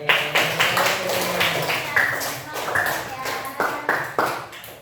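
Scattered classroom applause from students during a guidance lesson, a group clapping unevenly in bursts for a few seconds, fairly close, with voices talking over it.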